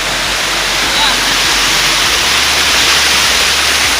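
Water rushes steadily over small mini waterfalls along a river trek on Camotes Island, a loud unbroken wash of noise that fills the whole stretch.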